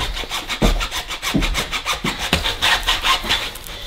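A hand saw cuts through wood in rhythmic back-and-forth strokes, rasping steadily and close with regular push and pull, no voices over it.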